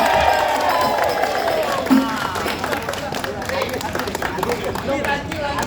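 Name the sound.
audience clapping and cheering at a performance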